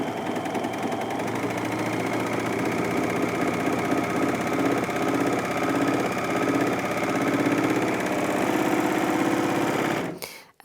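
A Bernette Funlock b44 overlocker runs flat out sewing fabric at its top speed of about 1300 stitches per minute, a loud, steady mechanical whir with a fast rhythmic chatter that holds evenly for ten seconds before abruptly stopping.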